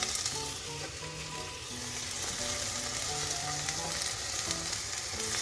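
Tomato pieces tumble into onions and ginger-garlic paste sizzling in a pressure cooker, a steady close frying hiss with soft stirring scrapes running throughout.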